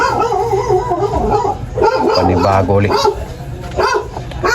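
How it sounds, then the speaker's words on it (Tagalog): A dog barks and yips repeatedly in short bursts close by, mixed with a person talking over it. "Ang iingay naman ng aso na to."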